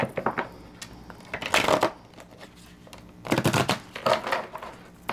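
A deck of tarot cards is shuffled in two bursts of crisp riffling and slapping, close and fairly quiet, separated by a pause with light handling sounds.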